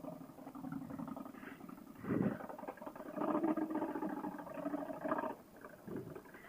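Indian Scout motorcycle fitted with a Handmo Shorty GP exhaust, idling with a loud, deep, uneven rumble and a few blips of revving that swell and drop, steady and close throughout.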